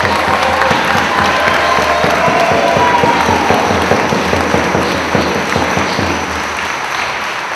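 A crowd of activists at a rent control rally in Seattle applauds, a loud, dense wash of clapping mixed with crowd noise, holding steady and fading slightly toward the end.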